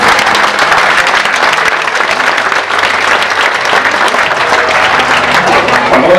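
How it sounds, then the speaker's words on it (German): A crowd backstage at the Summer Breeze 2015 festival gives the innkeeper loud, sustained applause, with dense clapping mixed with cheers lasting several seconds. "der Wirt kriegt jetzt einen Applaus"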